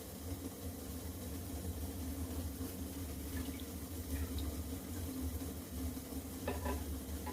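A ladle of suji (rava) batter poured into a hot pan for a spicy suji roll, giving a soft, steady sizzle with faint stirring and liquid sounds, low in level and without talk.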